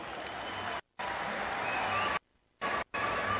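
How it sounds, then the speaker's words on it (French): Crowd applause for Russian partners at a public ceremony in the Central African Republic, steady clapping that cuts off abruptly twice, with short silent gaps between bursts. "Applaudissez pour les Russes"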